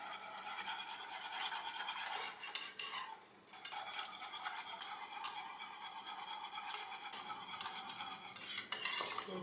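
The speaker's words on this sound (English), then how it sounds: "Probably best idea to switch to whisk at this point." A whisk beats a thickening flour mixture in a bowl, a fast, continuous scratchy rasp with steady rhythmic strokes, close up and alone, pausing briefly once before resuming.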